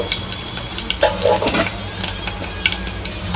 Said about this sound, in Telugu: ఫస్ట్ నూనె కాగిన తర్వాత కొద్దిగా జీలకర్ర, కొద్దిగా అంత ఆవాలు,